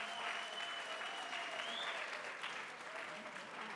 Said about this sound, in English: I don't know why you're applauding, but great.